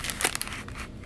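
A library book's dust cover crinkles briefly as it is handled, a quiet, short papery rustle with a couple of crisp crackles.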